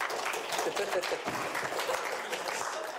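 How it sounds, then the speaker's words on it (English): Audience at a talk on AI in games applauding volunteers coming forward, a moderate, steady round of clapping from a small crowd with voices talking over it. "Give them a round of applause"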